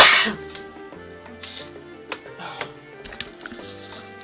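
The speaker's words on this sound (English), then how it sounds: "Sorry about that, I had to sneeze" A single sharp human sneeze bursts out loud and close at the start, then gives way to quieter clicks and faint game sounds.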